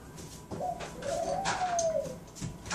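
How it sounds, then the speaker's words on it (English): Bird noise in the video game Minecraft, a soft cooing call with a few chirpy, wavering notes over quiet game ambience, at moderate volume and without speech. "this bird doesn't shut up"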